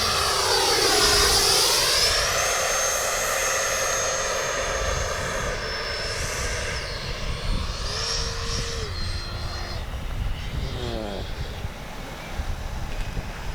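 Freewing 90mm Eurofighter RC jet with landing gear down comes in to land: a loud, high ducted-fan whine sweeps in pitch as it passes close, then throttles down and fades to a lower drone.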